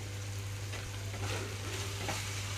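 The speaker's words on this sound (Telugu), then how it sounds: "మధ్యలో ఒకసారి మూత తీసి కలుపుతున్నాను" Raw banana fry in a pan is stirred after the lid comes off, giving a steady, faint sizzle with soft scraping under a constant low hum.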